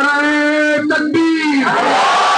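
A large crowd at an outdoor political corner meeting roars a religious slogan in unison, a loud sustained chorus of voices that briefly breaks, then swells again.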